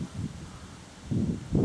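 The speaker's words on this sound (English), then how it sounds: "Not sure if you can hear the wind blowing through those rushes over there" Wind moves through rushes by a footbridge on a South Downs Way walk near Amberley, West Sussex, a soft, steady outdoor rustle with gentle swells and no voices.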